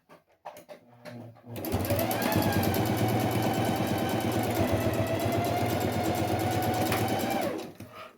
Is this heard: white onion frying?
no